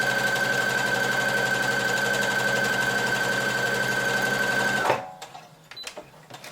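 A sewing machine runs a long gathering stitch along the top of a sweater sleeve, a steady close mechanical whir with a high hum that cuts off, followed by a few soft handling clicks.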